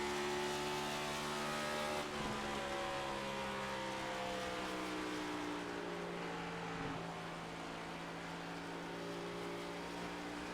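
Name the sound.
race car accelerating out of a turn, throttle and clutch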